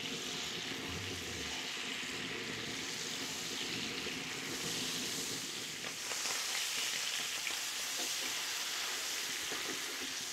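A veal round (girello) sears in a hot pan, giving a loud, steady, dense sizzle and crackle that runs unbroken from start to finish with no talking.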